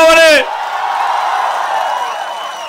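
A large political rally crowd cheering and clapping in a steady, loud wash that follows a brief amplified voice at the start.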